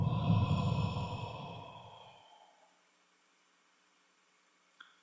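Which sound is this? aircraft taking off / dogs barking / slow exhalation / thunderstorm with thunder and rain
slow exhalation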